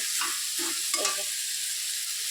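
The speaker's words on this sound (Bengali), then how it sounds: "শুকনো লঙ্কা জিরে ফোড়ন দিয়ে মশলা কষিয়ে নিচ্ছে এবার এই যে অনেকক্ষণ থেকে কষাচ্ছে" Spices fry with dried chilli and cumin while being stirred in a pan, a soft steady sizzle with a few quick spatula scrapes early on. Close but fairly quiet, and no one talks.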